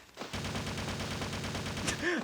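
Rapid sniper and automatic gunfire in the PS1 shooter Resident Evil Survivor, a dense continuous volley of loud cracks running almost the whole clip, with a brief electronic whine near the end.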